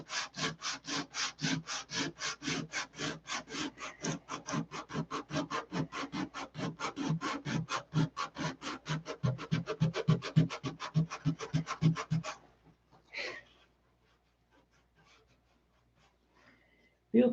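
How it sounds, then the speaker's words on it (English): Hand sanding an edge of an aircraft canopy, a close run of rapid rhythmic back-and-forth rasping strokes that speeds up, then stops abruptly, followed by near silence and a couple of faint knocks. "I'm sanding that edge off"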